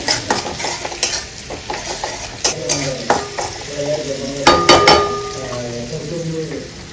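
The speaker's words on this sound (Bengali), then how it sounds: "পেঁয়াজ ভাজা হয়ে গেলে টমেটো দিয়ে দেবো" Onions frying in a pan in a Bengali home kitchen, stirred with a spatula, giving a steady close sizzle broken by repeated scraping and clinking strokes, with a voice talking at times.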